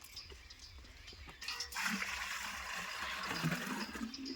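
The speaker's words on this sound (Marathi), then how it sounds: "वीरने म्हणजे पाणी कसं काढते बाबा" Water gushes and splashes steadily after a quiet start, a loud rushing pour that continues to the end with some faint background voices.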